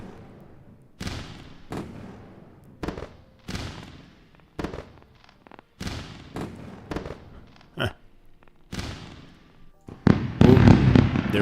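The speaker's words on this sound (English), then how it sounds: "first I have to run some fireworks" Fireworks going off in a series of separate bangs and crackling bursts, roughly one every second, building to a dense, loud crackling barrage at the end.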